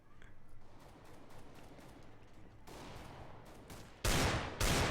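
Bursts of rapid gunfire from a Counter-Strike match, scattered shots early, then two loud close volleys near the end.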